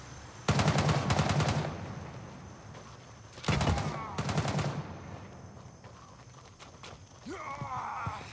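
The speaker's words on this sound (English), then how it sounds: "he's doing some more shooting over there" Rapid automatic gunfire in a video game comes in two loud bursts separated by a pause, followed by quieter scattered game sounds and movement.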